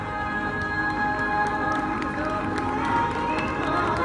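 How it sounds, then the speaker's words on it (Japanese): Scattered audience applause at a team award ceremony for a Fukuoka cross-country race: sparse claps over a steady crowd murmur and a faint background hum. "大きな拍手をお願いします。"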